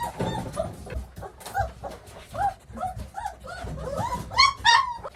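Several puppies whimper and yip in high, wavering cries, close by, with soft rustling and shuffling underneath.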